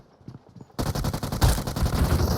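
Automatic gunfire in the mobile battle royale game PUBG Mobile bursts in loudly after a brief quiet moment, rapid shots rattling on and on in dense, sustained volleys.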